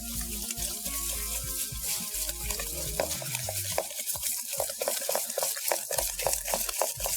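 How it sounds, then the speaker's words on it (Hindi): Egg whites and sugar being stirred by hand in a bowl, giving a steady run of wet scraping and clicking strokes with low kitchen rumble underneath. "100 ग्राम जाएगी इसमें एग वाइट और 200 ग्राम इसमें जाएगी चीनी। अच्छे से हमने करना है मिक्स।"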